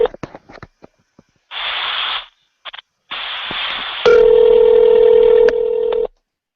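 An outgoing phone call starts with a burst of dialing tones and noise bursts, then a steady ringing tone holds for a couple of seconds before cutting off.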